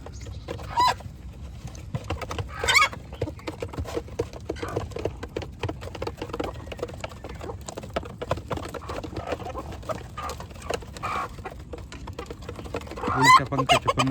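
Free-range village hens, mostly laying hens with two roosters among them, cluck in a steady scattered chorus on a country poultry farm, with a few louder calls standing out.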